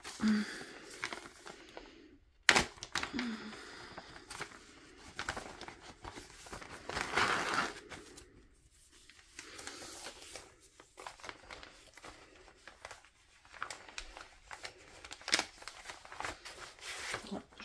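A cross stitch kit package is unwrapped in rustling, crinkling bursts with a sharp snap early on, close and fairly quiet, the handling continuing in irregular spurts.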